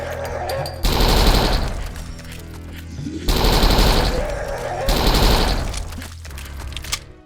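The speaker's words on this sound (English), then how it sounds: "The Sten is the gun that basically replaces the nail gun, an up-close, high fire rate SMG." Sten submachine gun in the shooter game Dead Trash, firing three long rapid bursts of loud close gunfire separated by brief pauses, ending with a single sharp report.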